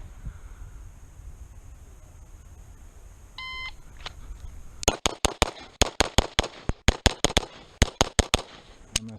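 A Beretta 92 Elite LTT pistol fires at an outdoor shooting range, with a short beep followed by a rapid run of loud, sharp shots in quick bursts, close and echoing, with no voices.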